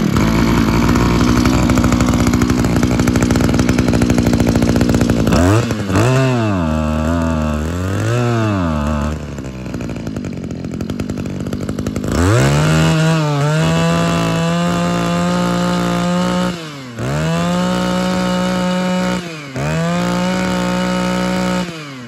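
A used Japanese brush cutter's small two-stroke engine runs on a test, loud and close, rasping at a steady idle before revving up high and holding, with a few brief dips between sustained high-pitched runs.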